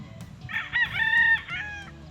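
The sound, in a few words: gamefowl roosters crowing on a game farm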